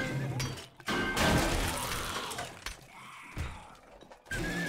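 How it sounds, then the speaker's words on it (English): Zombies in the 7 Days to Die video game smash through a wall: repeated loud crashing, shattering and thudding impacts in irregular bursts, close and harsh. "They're going through the wall."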